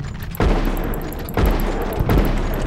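Gunfire in the video game Red Dead Online while shooting at a big bird: a few loud, sharp blasts in quick succession, each breaking over a dense, busy game soundscape.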